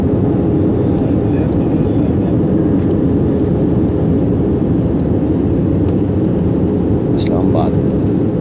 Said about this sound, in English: We are landing on Benazir International Airport.